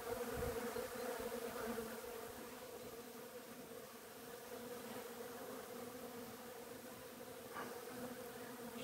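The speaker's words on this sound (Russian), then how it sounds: "И буквально все облеплено пчелами." Many bees buzz steadily around the large catkins of a three-year-old Garibaldi hazelnut bush, a dense, continuous outdoor drone with no talking.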